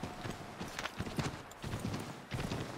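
A horse galloping in the video game Assassin's Creed 3, rapid clip-clop hoof beats in a steady repeating rhythm, fairly quiet and close, with no talk over them.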